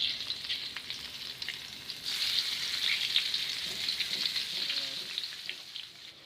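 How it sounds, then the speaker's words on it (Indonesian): Tempeh frying in hot oil gives a steady, dense sizzle with crackling pops that holds loud and close throughout, and no one speaks. "Kita goreng tempenya teman-teman."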